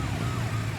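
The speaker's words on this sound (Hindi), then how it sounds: "एम्बुलेंस हॉर्न दे रही है, सुनाई नहीं दे रहा है क्या?" An ambulance siren wails faintly over a steady, heavy rumble of nearby traffic and engine noise, with no talking.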